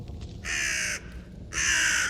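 Two loud, drawn-out crow caws, likely a voice imitating the bird, ring out close and clear with a short pause between them over a faint background.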